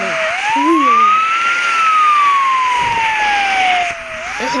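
A fire truck siren in a video game wails loudly in a long rising and falling sweep, close and continuous, with no talk over it.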